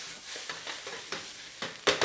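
A spatula scraping and stirring ingredients in a hot sizzling pan for Korean-style fried rice with corned beef, with irregular close scrapes over a soft steady frying hiss.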